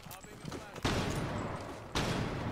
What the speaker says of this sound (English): I'm gonna hip fire yeah. with my shotgun, dude.